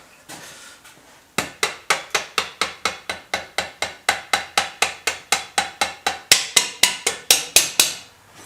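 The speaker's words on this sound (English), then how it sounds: "where's my little tapping hammer?" A small tapping hammer strikes metal on a Yamaha-based BSA-style Scrambler 650 motorcycle build, about thirty sharp, evenly paced taps close up, getting louder toward the end, with no talk.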